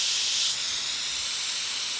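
Steam hisses hard from an Instant Pot during a quick pressure release after cooking beef and broccoli, a loud steady jet that eases slightly after the first half second and keeps going, heard alone.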